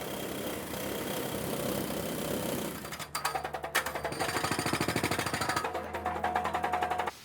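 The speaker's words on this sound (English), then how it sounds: "While the holes get drilled," A steady mechanical roar gives way to a loud, rapid hammering drill pounding holes into concrete in repeated bursts, close by, at a 600,000 sq ft building being prepared for demolition, with an engine droning underneath.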